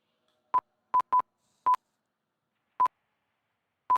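A phone gives a series of six short, clean electronic beeps at an uneven rhythm, sounding alone against silence.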